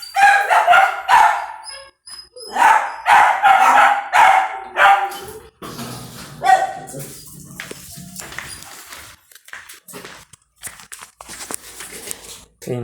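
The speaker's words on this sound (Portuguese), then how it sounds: "o cachorrinho está latindo." A small dog barks repeatedly in quick, high-pitched bursts close by, then quiets as rustling and faint movement noises follow.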